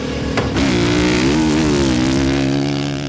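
A 2013 Honda CRF450R dirt bike engine revs loudly and close, with a sharp blip at the start settling into a sustained, wavering high-rev drone.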